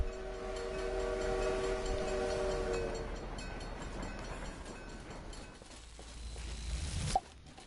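A train in the video game The Last Hero of Nostalgaia rumbles past with a sustained horn tone at first, then fades into a lower rolling clatter, ending in a sharp thump.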